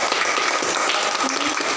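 Classroom students applauding a classmate named Tinta, a loud, steady wash of many hands clapping at close range, with a voice faintly audible beneath it.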